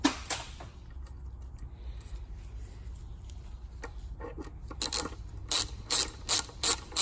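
A ratchet cranks a bolt down to hold a solenoid on a powder-coated valve cover, sparse clicks early giving way to loud, rapid bursts of ratcheting near the end, close up.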